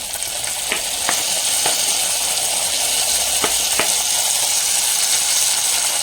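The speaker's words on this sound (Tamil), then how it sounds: "தக்காளி நல்லா வதங்கட்டும்" Tomatoes sautéing with onions in a pan for a village-style potato masala, a continuous bright sizzle with a few sharp clicks of a spoon scraping the pan.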